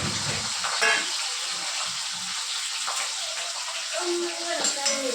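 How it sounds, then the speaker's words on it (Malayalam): Onions and curry leaves sautéing in coconut oil in a pan on the stove, a steady soft sizzle with faint stirring scrapes, fairly close, with a few brief voice sounds over it. "വെളിച്ചെണ്ണ ഒഴിച്ചു, ഉള്ളിയും കറിവേപ്പിലയും ഇട്ട് വഴറ്റിയെടുക്കാം കേട്ടോ"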